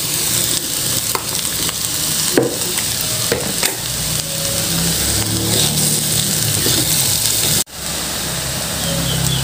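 Fried tempeh is stirred in a hot pan for oseng tempe, giving a loud, steady sizzle with scraping stir strokes throughout. A brief drop near the end is followed by the frying hiss resuming.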